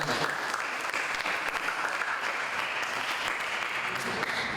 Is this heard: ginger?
no